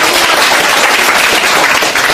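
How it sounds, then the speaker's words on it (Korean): A crowd at a Gangjeong village rally gives a mother loud, dense applause. The clapping is continuous and close for the whole short stretch, with no speech over it. "우리 어머니께도 큰 박수"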